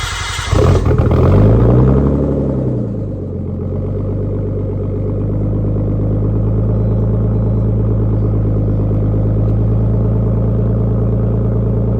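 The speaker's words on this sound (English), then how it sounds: "I'm gonna do a little cold start." A Nissan R32 with a Tomei catback exhaust cold starts: a brief cranking burst flares loud, then the engine settles into a deep, steady, close rumbling idle that runs on alone with no talk.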